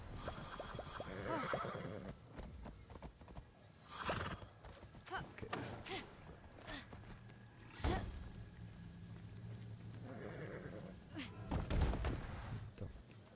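A horse in the video game Immortals Fenyx Rising whinnies a few times amid thuds and clip-clopping hooves, with mechanical game noises in the background.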